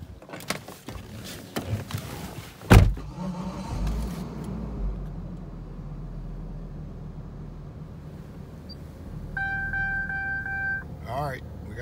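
A Hummer H3 truck starts up with a sharp crank and catch, then settles into a steady low idle, with warning chimes sounding near the end.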